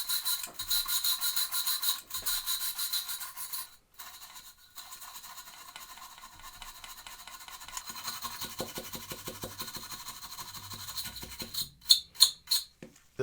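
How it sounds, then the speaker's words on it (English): Stiff bristle brush scrubbing corrosion off a flood-damaged PS5 with isopropyl alcohol, a steady close raspy scratching that pauses briefly, then shorter louder strokes near the end. "I'm going to try to now clean most of this corrosion up with a bit of a stiff bristle brush here, a little bit of IPA on there"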